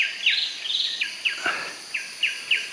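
Birds calling at dawn in the Kaeng Krachan jungle: a run of short, bright, downward-sweeping chirps repeating every half second or so over a soft insect hum, fairly close and steady.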